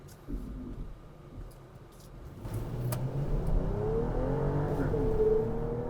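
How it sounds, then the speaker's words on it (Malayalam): A BMW X5 M in sport mode accelerates hard, its engine note building and rising steadily in pitch over a road rumble, growing louder from inside the car. "കാല് കൊടുത്തു കഴിഞ്ഞാൽ റോക്കറ്റ് പോലെ കുതിക്കും ഈ വാഹനം"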